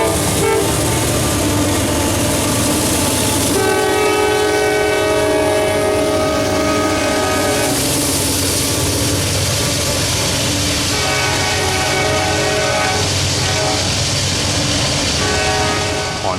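A long CSX freight train rumbles past steadily on the A Line, its horn sounding in sustained blasts over the continuous roar and clatter of the cars.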